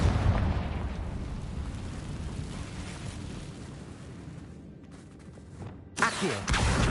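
Confringo blasting-curse explosions in the video game Hogwarts Legacy, a long rumbling blast that roars and decays, then a brief dropout and a fresh sharp burst near the end.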